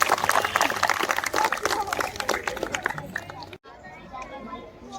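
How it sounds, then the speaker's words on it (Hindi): An audience at a school Grandparents' Day celebration claps to welcome a children's skit. Loud, dense clapping and crowd chatter fill the first few seconds, then cut off abruptly into quieter room noise. "तो अपनी जोरदार तालियों से इनका स्वागत कीजिए और इनका मनोबल बढ़ाइए।"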